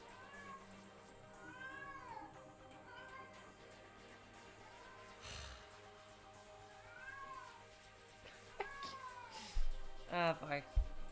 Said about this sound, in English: Cat, you better stop making noise during the stream.